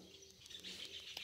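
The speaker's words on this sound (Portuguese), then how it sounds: "E olha os cantos dos pássaros." Small birds sing faintly in the morning around a small home agroforestry garden, with scattered high chirps in the distance and no voices.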